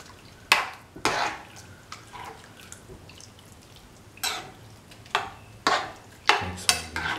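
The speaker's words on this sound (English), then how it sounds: "Mix all the ingredients with the prawns well." A spoon stirs prawns with turmeric and other ingredients in a pan, producing several wet scraping clinks and knocks at irregular intervals, close and clear with no talk.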